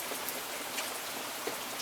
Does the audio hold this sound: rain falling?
yes